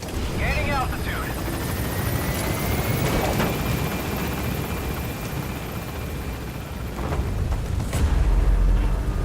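A military helicopter in Metal Gear Solid V lifts off with a steady whooshing rotor roar that swells and climbs, while radio voices speak over it.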